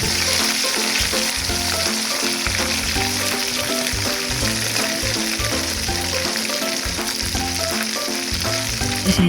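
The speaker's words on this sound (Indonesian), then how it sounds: "di sini kami langsung menggoreng belutnya teman-teman" Loud, continuous sizzling of eels frying in hot oil, cooked outdoors in a hut amid rice fields, with a steady crackling hiss and faint clinks of stirring underneath.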